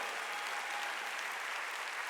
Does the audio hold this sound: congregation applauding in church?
yes